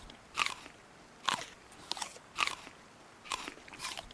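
A character eats a potato in the video game DayZ: about five crisp, evenly spaced crunchy bites, faint and close, with no talk.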